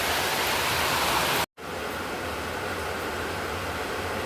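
Steady, dense rain pours down close by as a constant wash of noise, broken by a sudden, very brief silence before the downpour resumes just as heavily.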